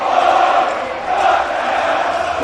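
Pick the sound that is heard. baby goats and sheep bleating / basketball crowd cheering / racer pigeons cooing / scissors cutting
basketball crowd cheering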